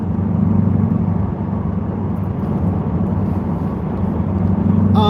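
Steady low rumble of road traffic and engine drone heard from inside a moving car, continuous and fairly loud with no breaks.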